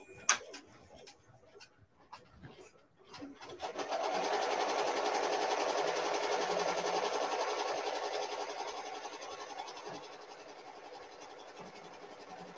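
An embroidery machine tacks fleece down onto a chenille bunny project, giving a steady mechanical whir that starts after a few quiet seconds, runs strong and continuous, then eases slightly toward the end.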